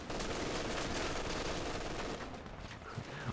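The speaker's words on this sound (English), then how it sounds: "Only in CH2 will an MG firing point blank not kill you." A machine gun in Company of Heroes 2 fires point blank, a dense, continuous rattle of gunfire that holds steady throughout and eases slightly toward the end.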